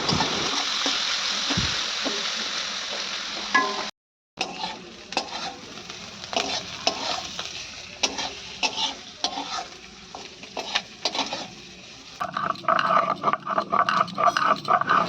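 Mushrooms frying in a pan in a Bengali village kitchen, sizzling while being stirred, with scraping and clattering utensil strokes coming in irregular bursts and one brief silent break.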